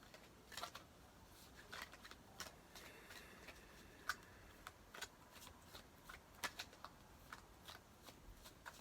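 Soft, close riffling and clicking of tarot cards being shuffled, a steady run of light snaps and flicks, faint and with no talking.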